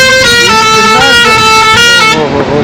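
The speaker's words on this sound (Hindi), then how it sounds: "क्या हॉर्न है, क्या हॉर्न है, बहुत ही अच्छा हॉर्न है भाई आपका।" A truck on a highway at night blasts a loud, sustained multi-tone musical horn for nearly three seconds, close by and dominating the scene over road rumble.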